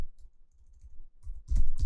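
Soft, uneven clicks of fingers typing on a computer keyboard build into a louder flurry of keystrokes near the end.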